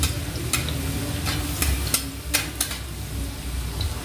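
Garlic frying in a pan for a Marathi-style cluster bean (gavar) stir-fry, a steady close sizzle broken by sharp spoon scrapes and clinks against the pan every half second or so.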